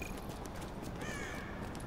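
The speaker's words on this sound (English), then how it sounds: "Oh, look, a bird." A crow caws faintly in a few rough calls over a dense, steady ambient wash in the video game The Division.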